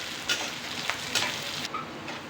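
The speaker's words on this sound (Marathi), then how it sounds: "आता आपण कांदा घालणार आहे. कांद्याने आपण आता एकसारखं हलवून घेऊया." Onion fries in hot oil in a pan while being stirred, a close steady sizzle broken by a few scraping taps of the spoon, no voices.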